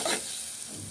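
A brief, close sizzle of chili powder, coriander powder and salt being stirred into hot oil in a pan, one quick burst of frying that fades to a soft hiss.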